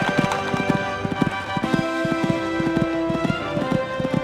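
Galloping hooves of a horse on an eventing cross-country course, jumping a combination of fences; steady drumming footfalls, close and distinct, with a short break in rhythm around the jump.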